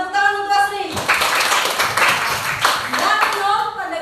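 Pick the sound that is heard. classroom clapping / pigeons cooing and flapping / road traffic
classroom clapping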